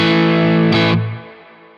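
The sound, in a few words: crunch guitar tone through effects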